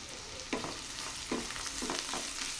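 Onions with a few curry leaves sautéing in hot oil for a bitter gourd tamarind curry, a steady close sizzle broken by three or four scraping stirs of a spoon against the pan, with no voices.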